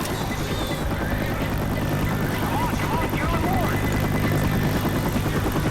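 A helicopter's rotor thumps steadily over a dense, noisy backdrop of Left 4 Dead 2 game action, with voices shouting now and then underneath.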